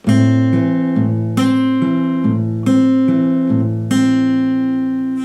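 A short strummed guitar passage with several chord changes, each ringing briefly, loud and close with no voices.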